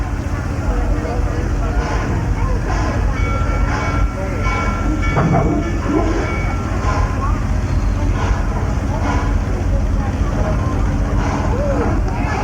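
A train leaving Stanleyville station on the Busch Gardens Transbelt Railroad in Florida, 1985, rumbles and clatters along the tracks at a steady pace while a voice talks over the rolling noise.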